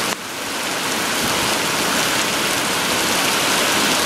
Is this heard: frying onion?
no